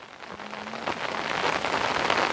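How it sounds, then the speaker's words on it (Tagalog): Rain falls steadily outdoors, a dense hiss of drops that grows louder over a couple of seconds, with no voices. "Umuulan! Sumilong muna kayo."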